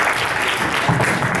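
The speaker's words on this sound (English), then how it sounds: "Big round of applause for the team." A seminar audience gives a team a big round of applause at an NLP and Time Line Therapy demonstration: a short burst of steady, moderately loud clapping from a roomful of people, with no clear talk over it.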